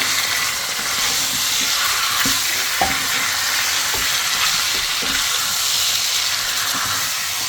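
A spiced mixture with chili is stirred in a hot frying pan, giving a steady loud sizzle and hiss with scattered scraping clicks of the spoon against the pan, no voices.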